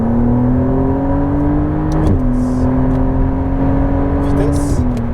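A McLaren Artura engine climbs toward 6500 rpm as a loud, close, steady drone, dropping in pitch with each brief shift. Someone talks over it.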